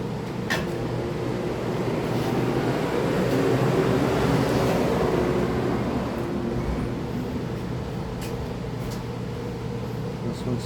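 An Echo PB-250LN leaf blower engine runs steadily after a recoil starter repair, giving a loud, continuous droning hum with a buzzy texture that holds evenly throughout, with a few faint ticks on top.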